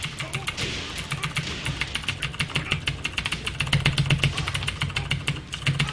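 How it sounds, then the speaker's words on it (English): Rapid clattering keystrokes on a computer keyboard during a fighting game session, dense irregular clicks running throughout over a steady low hum, close to the mic. "I know you guys like that keyboard ASMR"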